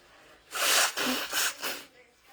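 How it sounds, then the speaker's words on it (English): A person blows their nose in a few sharp, breathy bursts, close and moderately loud, with no speech over it. "Sorry, I got to blow my nose."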